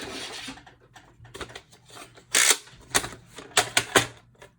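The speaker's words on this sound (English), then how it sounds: "I'm just gonna grab my trimmer and we will cut these down." Paper being cut to size on a paper trimmer while making envelope journals: a run of short rasping slices and clicks, several sharper cuts near the end, close up with no speech.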